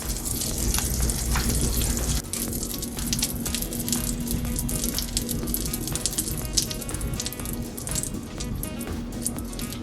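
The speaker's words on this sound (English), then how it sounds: "we are going to put the batter into the pan" Banana pancake batter sizzles steadily in a non-stick frying pan, a dense continuous frying hiss with faint crackles running at an even level the whole way through.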